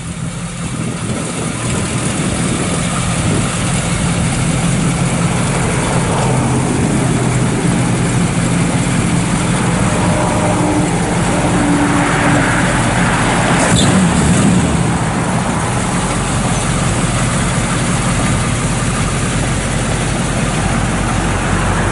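A 1963 Chevrolet Impala idles through its factory ram horn exhaust manifolds and dual exhaust, a steady, loud, low rumbling engine note holding evenly for the whole stretch with no voices.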